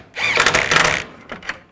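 A power tool buzzes for about a second tightening a bolt on a transmission cooler line, then gives a couple of short follow-up bursts, close and alone.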